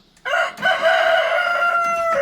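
A rooster crows loudly and close in a coop holding Australorp hens, one long sustained call rising out of near silence.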